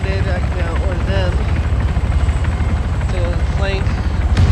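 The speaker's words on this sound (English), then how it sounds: "now that the helicopter force just landed" A helicopter in the military video game Arma 3 sets down with a steady loud rotor and engine thrum that continues under someone talking throughout.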